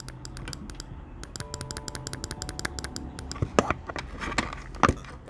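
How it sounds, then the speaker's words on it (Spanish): Rapid, crisp clicking of an Apple Magic Mouse, many small taps in quick irregular succession, close by, with some louder knocks toward the end. "El clic es... A ver, escúchenlo."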